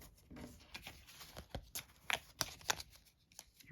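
Cards from an Agents of Mayhem board game expansion being handled and shuffled, a close, dry run of rustling flicks and snaps with no talking.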